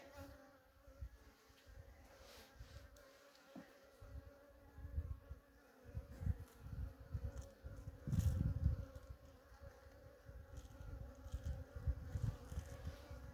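Honeybees buzz around an open, queenless hive, a dense droning hum that swells and fades, with louder passes close by and no talking.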